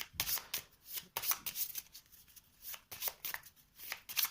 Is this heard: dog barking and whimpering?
no